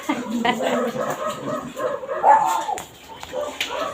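Several dogs, including poodles and puppies, bark and yip in a busy, cluttered scene, with voices talking over them throughout.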